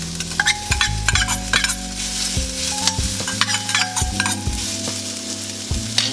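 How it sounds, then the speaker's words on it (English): Onions sautéing in a hot pan alongside searing mushrooms over medium heat, a steady close sizzle broken by repeated scraping stirs and light utensil clinks, with no talking. "Now we're going to add our onions."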